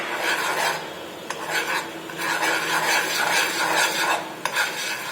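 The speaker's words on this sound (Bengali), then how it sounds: "খুব ভালো করে বাটারটা মেশাতে হবে।" Butter being stirred into a chicken lemon butter sauce in a pan, heard as close, continuous rasping and scraping of a utensil over a gentle sizzle, with a couple of light taps.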